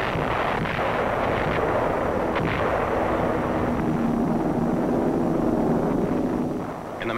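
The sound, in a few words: naval bombardment by destroyers and cruisers, 1945 footage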